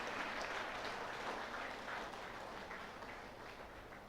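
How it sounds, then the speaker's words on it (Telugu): An audience at a meditation centre's eighth anniversary celebration claps for an honoured couple, producing a continuous, fairly distant wash of applause that fades slightly toward the end. "రామిరెడ్డి గారి దంపతులకు ఒకసారి గట్టిగా క్లాప్స్ కొడదామండి ఫ్రెండ్స్."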